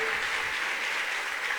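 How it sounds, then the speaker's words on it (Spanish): A church congregation claps for the Lord in a dense, steady roar of applause with no pauses, loud and filling the room. "Vamos a darle palmas al Señor."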